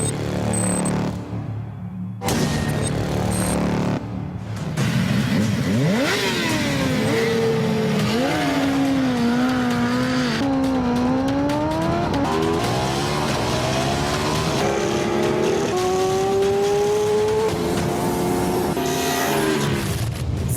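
Motorcycles revving hard during stunt riding and racing, engine pitch sweeping up and down through gear changes, loud and continuous with no talk.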